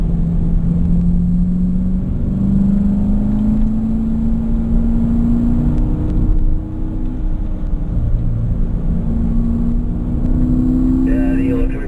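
Car engine under throttle on a track lap, a steady loud drone rising slowly in pitch as the car accelerates through fifth gear, with someone talking over it.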